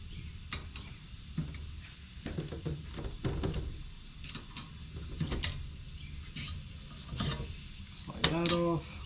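Metal axle collars on a go-kart rear axle are loosened with a hand tool, giving a series of irregular ratcheting clicks and metallic clanks, close and fairly quiet, with a brief squeak near the end.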